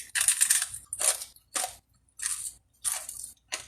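Close, loud crunching bites of pork rinds in short bursts, about six crisp crackly chews separated by brief silences, with no talking.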